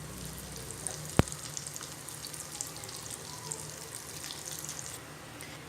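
Potato nuggets fry in hot oil over a medium gas flame, a soft, steady crackling sizzle with scattered pops and one sharp clink early on.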